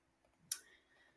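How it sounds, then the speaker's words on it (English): A single sharp click of a computer mouse button on a quiet desk, short and fairly close, with faint room hush around it. "clicking on the wrong button"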